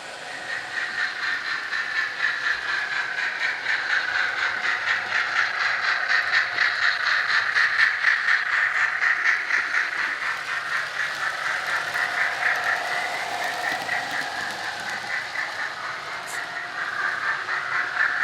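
A TT:120 scale model Duchess steam locomotive runs on a layout, giving a steady synthetic steam hiss with rhythmic chuffing and faint wheel noise, continuous and moderately loud, with no speech.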